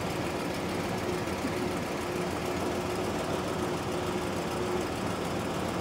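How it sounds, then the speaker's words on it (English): The AC compressor on a GMC motorhome runs as refrigerant is charged into the system, a constant close mechanical drone with engine-like vibration and an even, unbroken level, with no talking. "I can keep opening this up and letting the refrigerant go in and kind of watch that pressure as the compressor cycles"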